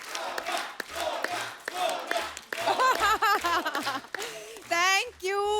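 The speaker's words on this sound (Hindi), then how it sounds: "तो आप सबकी जोरदार तालियों के बीच इनवाइट करना चाहूंगा।" A studio audience at a Kapil Sharma Show taping welcomes actress Sonakshi Sinha onstage with loud clapping and cheering voices that rise and swell throughout, with excited whoops toward the end.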